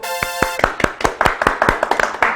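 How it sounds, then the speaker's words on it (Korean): An audience at an LG product lecture in a mart claps for the presenter, with roughly a dozen sharp, separate claps in a loose rhythm, close and moderately loud. A brief tone is heard at the start. "박수"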